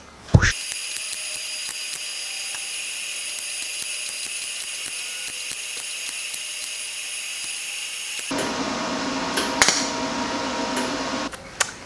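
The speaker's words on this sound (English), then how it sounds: "So let me weld this one on and then try it." Electric welding on a metal frame, a steady buzzing crackle held for several seconds after a sharp start, then a rougher, noisier burst of spatter before it stops.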